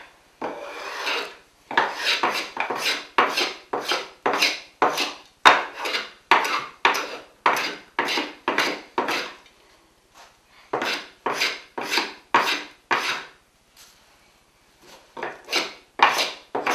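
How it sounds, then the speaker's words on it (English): Steady back-and-forth rasping strokes of a sponge sanding block on wood, close and fairly loud, in rhythmic bursts with a couple of short pauses. "what I'm doing is I have this sponge sanding block"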